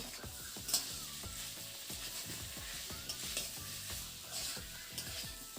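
Raw tamarind frying in a pan with turmeric and cumin powder, a quiet steady sizzle broken by repeated rhythmic scraping strokes of a spatula as it is stirred.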